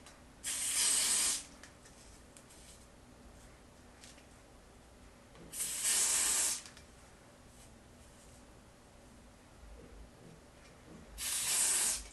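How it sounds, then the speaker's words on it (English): Three separate short bursts of spray hiss from an aerosol can being applied to a lace front wig, each about a second long and several seconds apart, close and fairly loud against a quiet background. "So now just gonna go ahead and apply that spray."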